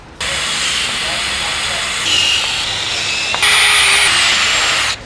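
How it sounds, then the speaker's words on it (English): A power drill pre-drills holes through a front splitter clamped onto a Kia Cerato GT sedan, giving a steady, close, high whine that shifts pitch a couple of times before cutting off. "With the splitter clamped in place, we can now pre-drill all of our holes"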